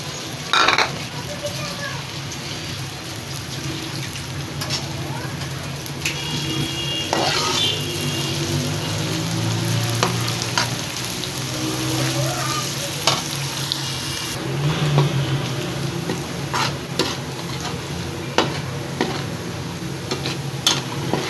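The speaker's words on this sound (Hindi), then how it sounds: "एक कप मैंने ऑयल डाला है, इसको गर्म करके प्याज इसमें शामिल कर दो।" Onion frying in a cup of hot oil in a pan, a loud continuous sizzle with scraping stirs and occasional utensil clicks against the pan throughout.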